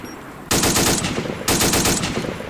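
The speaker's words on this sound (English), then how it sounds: "Now I call this a light machine gun" Light machine gun in Arma 2 (Invasion '44, 7.7x66R rounds) fires two sustained full-auto bursts, loud and close, rapid rattling shots with a brief pause between them.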